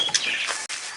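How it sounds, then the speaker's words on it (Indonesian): Six white-rumped shamas (murai batu) kept in cages outdoors, giving brief bright chirps and whistled notes, close by with no talk. "Tuh saya lagi ngejemur burung, ada 6 ekor murai batu"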